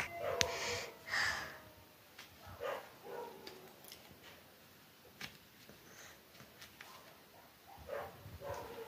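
A few dog barks and snorts come from some distance, scattered over quiet outdoor background noise with long gaps between them.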